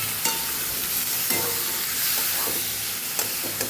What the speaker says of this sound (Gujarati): અહીંયા આપણે જે ટમેટા સુધારીને રાખેલા એ હવે ઉમેરી દેશું.